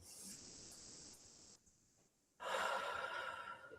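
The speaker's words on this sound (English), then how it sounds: "And then maybe take a breath." One slow, soft inhalation sounds close and quiet, with a brief hush before a fuller breathy rush near the end, all under faint background noise.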